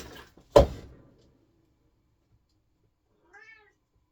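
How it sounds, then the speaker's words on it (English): A cat gives one sharp, close meow, followed after a long silence by a second, fainter and shorter meow. "cat's good."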